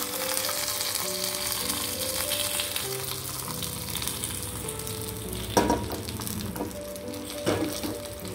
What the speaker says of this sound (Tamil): இப்போ இந்த தாளிப்பை நம்ம ரசத்தில் கொட்டிடலாம்.